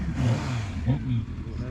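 A 1997 Honda CBR1100XX Super Blackbird motorcycle engine starts up and revs in a few rising bursts, close and fairly loud, with a steady low rumble underneath.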